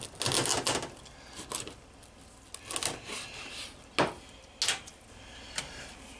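Knife chopping squirrel carcasses into pieces for Brunswick stew, a series of sharp separate cuts and cracks through joints and bone on a board, close and moderately loud with short gaps between strokes.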